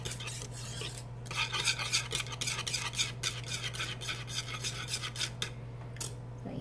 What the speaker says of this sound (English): And so we're just gonna give that a good old stir.